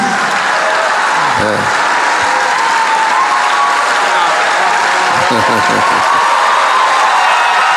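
A church congregation claps and cheers with loud, sustained applause that fills the room, steady from start to finish, with a few voices rising briefly above it.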